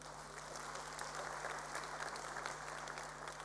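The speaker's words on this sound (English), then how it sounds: "If we can give a round of applause once again." An audience applauds at a Class of 2022 matric results announcement, a steady wash of clapping heard from a distance, even in level throughout with no voices over it.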